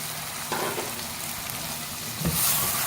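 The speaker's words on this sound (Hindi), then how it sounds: "अब इसको भी साथ भूनेंगे तेज़ आंच पे 1 मिनट के लिए।" Fried apple gourd (tinda) and mutton sauté together over high heat, giving a moderate, continuous sizzle with a brief louder stirring rustle near the end.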